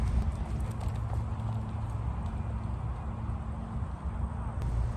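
Hooves of a horse ridden bareback pound steadily on the ground in a moving rhythm under strong wind or ambient noise, with a slight stumble in the gait.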